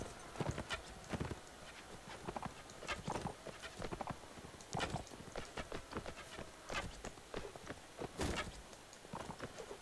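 A horse gallops in Mount and Blade: Warband, its hooves pounding in a steady rapid clatter throughout, loud and close, with no talking over it.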